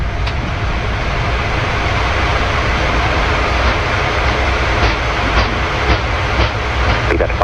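Airliner jet engines spool at takeoff thrust on the runway, a loud, steady broadband roar that fills the whole span with little variation, with faint speech buried beneath it.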